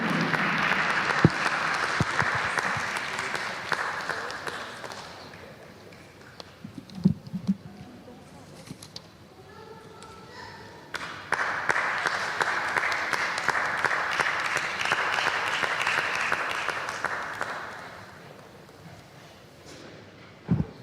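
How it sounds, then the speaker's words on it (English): An audience applauding at the close of a property entrepreneurship masterclass talk: two sustained bursts of clapping, the first running about five seconds and the second longer, with a short lull, a few stray sounds and scattered claps between them. "Another round of applause for Mrs. Dodds."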